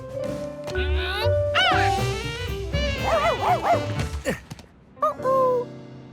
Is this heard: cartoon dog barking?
yes